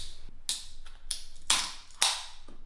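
An Ultra Strawberry drink can cracked open at close range: a few sharp clicks and metallic snaps, ending in a bright fizzing burst of hiss, quiet and with no talking.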